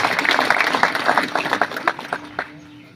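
Applause from workers gathered at a political meeting ahead of Lok Sabha elections, a dense burst of clapping that thins into scattered claps and fades out over a few seconds, with some crowd murmur.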